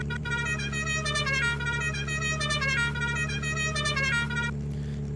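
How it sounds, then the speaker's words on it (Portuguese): Ferrari 458 Italia car horn in Farming Simulator 17, sounding as a run of short, bright honks in quick, uneven bursts over a steady low engine hum, ending in a brief final blast. "só buzinar."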